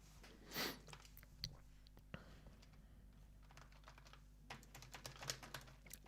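Typing on the PinePhone keyboard accessory, a small clip-on phone keyboard, giving scattered soft clicks and a few louder taps at close range over a steady low hum, with no talking.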